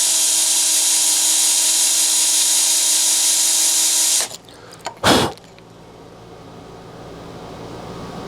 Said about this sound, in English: So I've gone back to the smaller drill bit.